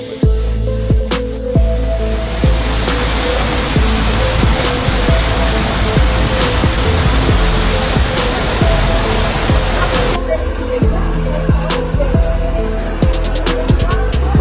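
Flash flood water in Jember, East Java, a loud continuous roar of rushing river water near a village bridge, steady and close throughout with no pauses.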